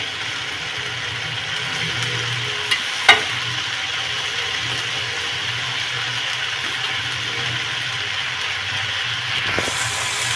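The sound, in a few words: rice being stir-fried and sizzling in a pan for veg fried rice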